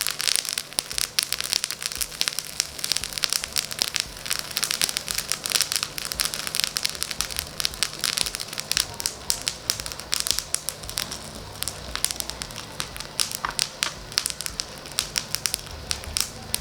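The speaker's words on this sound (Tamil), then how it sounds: "இது எல்லாமே போட்டோன்னா படப்படன்னு பொரியணும்" Mustard seeds crackling and popping on hot coals for homemade sambrani, a dense continuous crackle with many sharp snaps, close and fairly steady throughout, alone with no talk.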